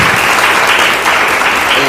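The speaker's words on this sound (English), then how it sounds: "Let's give Dr. Cooper Owens one more round of applause." A lecture audience applauds steadily for about two seconds after a talk on slavery, gynecology and the Black birthing crisis, a dense, even wash of many hands clapping at once.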